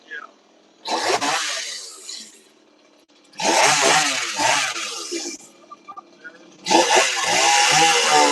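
Holzfforma G180E PRO chainsaw carving wood into a bald eagle sculpture, three loud revving bursts separated by quieter idle gaps, close to the microphone, with the engine pitch rising and falling.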